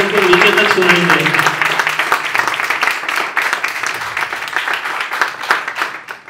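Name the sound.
audience applause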